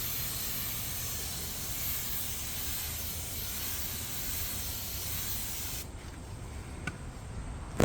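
A spray bottle mists rinse-off sealant onto a car in a long, steady hiss lasting several seconds, then cuts off, followed by a brief click near the end.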